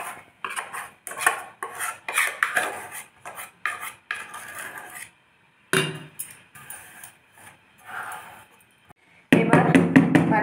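Bowls and utensils clink and knock against a wok as an oiled steaming bowl for khaman dhokla is set in place, a string of sharp close metallic taps, then a louder, denser burst of clatter at the end.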